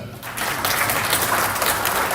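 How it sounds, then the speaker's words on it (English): A room of listeners applauds a guest at a Nairobi event, steady dense clapping that swells after a brief start and holds at full strength throughout. "So, Mr. Bassett Buyuka, a round of applause, please."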